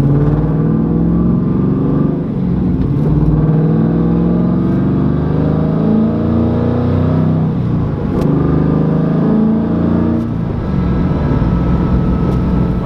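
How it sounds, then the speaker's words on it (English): A Pontiac F-body car on new WS6 wheels cruises at sunset, with a steady, loud engine drone and road rumble that swells slightly under acceleration throughout. "So, I'm gonna go put a couple more miles on the car."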